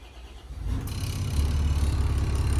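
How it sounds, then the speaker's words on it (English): Volvo Penta KAD44 shaft-drive diesel, one of twin 260 HP engines on a Doral 360SE boat, cranking over and catching, then settling into a loud steady low rumble at close range. "I will fire it up here to see how the engines start"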